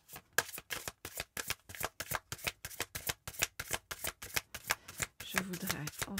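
Oracle cards being shuffled and handled in a steady rapid run of crisp riffling bursts, close and clear, with a softer rustle and faint sounds of someone drawing cards near the end.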